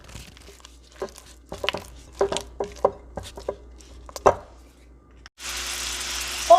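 Stuffed trout filling with shrimp stirred by a big spatula in a bowl, giving a series of soft, irregular scraping and squishing strokes at close range, followed by a steady hiss.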